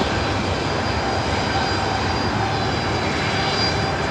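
A jet airliner in Star Wars livery arrives on the north side at LAX, a steady, loud broadband engine roar that holds evenly throughout with no voices.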